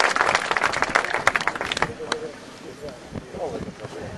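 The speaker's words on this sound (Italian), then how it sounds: "penso che un grande applauso vada rivolto a lui" Audience applause at an Italian awards ceremony, a dense burst of clapping that thins and fades after about two seconds into quieter murmur and scattered noise.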